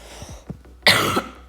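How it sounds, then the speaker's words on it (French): One harsh, close cough after a couple of small throat sounds, short and sharp, with nothing else around it. "je tousse, ça me tend"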